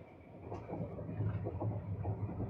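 The Bikaner to Sealdah Duronto Express, train 12260, rumbles steadily along the track at around 108 km/h, a continuous low roar with faint rhythmic wheel clatter heard from inside the coach.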